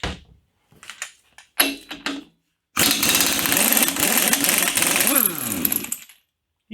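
An impact wrench with an impact-rated socket removes pulleys, one loud sustained rattling hammer burst of about three seconds after some clanks and handling noises, close.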